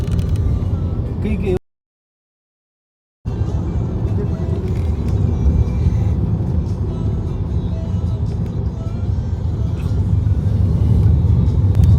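A car engine rumbles low and steady while driving through heavy road traffic, a continuous drone with a brief dropout, and a voice talks over it.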